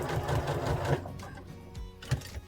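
A sewing machine stitches the top of a bear overall, a close, steady mechanical whirr with rhythmic needle chatter and a couple of brief clunks as the fabric is guided.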